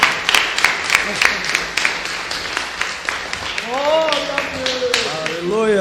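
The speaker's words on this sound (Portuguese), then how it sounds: "Salva de palmas para Jesus." A church congregation clapping in praise during a Portuguese-language service, with sharp, rhythmic hand claps up close while a voice speaks over them in the later part.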